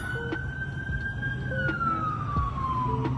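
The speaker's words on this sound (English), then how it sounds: "it's the sirens for me" A siren wails in the distance, its tone slowly sliding downward over steady traffic rumble, with a few faint short blips along the way.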